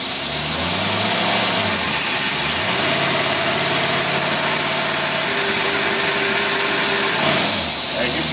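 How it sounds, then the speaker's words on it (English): A heavy engine with a Holley two-barrel carburetor drones steadily under strain pulling a 15,000-pound load, its tone sagging and wavering as it bogs down toward stalling, fairly loud throughout. "As you can see, it started stalling the engine out."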